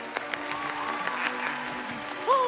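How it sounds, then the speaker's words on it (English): Audience applause for a clown-style performer at a Cirque du Soleil Kurios circus show, a light scattered clapping that carries on steadily, with a brief whistle-like voice sweep near the end. "Big applause for him!"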